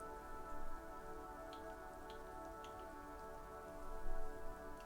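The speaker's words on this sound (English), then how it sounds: "Rain thrumming, the road ascends." Rain falls in the video game Disco Elysium, a soft steady patter with scattered ticking drops, faint and continuous beneath a sustained droning musical tone.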